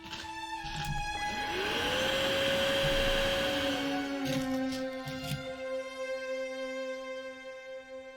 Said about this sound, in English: She pulled out the vacuum cleaner.